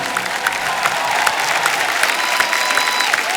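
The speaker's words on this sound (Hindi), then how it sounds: "जोरदार तालियां खान साहब के लिए।" A studio audience at a qawwali night on a comedy show applauds and cheers steadily, a dense continuous wash of clapping with scattered whoops throughout.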